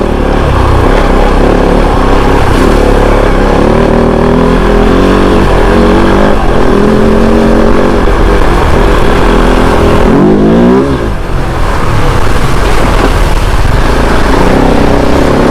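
A Kove 450 Rally motorcycle ridden hard through a box canyon in Arizona, its engine loud and close the whole time, droning and revving with shifting pitch, a brief dip and then a climbing rev near the middle.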